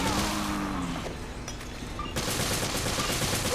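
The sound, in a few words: gunfire shooting at enemy in video game Resident Evil Revelations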